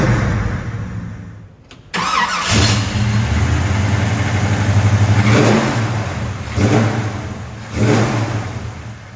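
A 1969 Chevrolet Chevelle V8 catches on the key after a short crank, then settles into a loud, rumbling idle broken by a few throttle blips that swell and fall away, close by with no voices.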